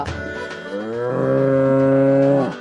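A buffalo calf lets out one long, loud moo, rising at the start and holding steady for about two seconds before cutting off, heard close and alone.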